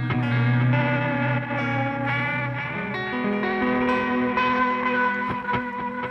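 A homemade tape echo unit run with its motor very slow repeats sustained tones with warbly, smeared echoes that waver in pitch and decay into one another, a dense layered drone with no voice.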